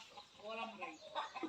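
A chicken gives a short burst of clucking close by, lasting a second or two.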